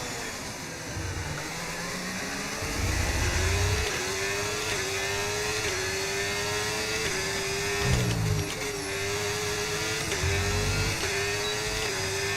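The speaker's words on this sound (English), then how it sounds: "Oh, the frickin' engine sounds so good." A Formula 1 car engine in the racing game F1 25 screams through gear changes at high revs, a loud continuous whine rising and dropping in pitch with steady shifts, no talking over it.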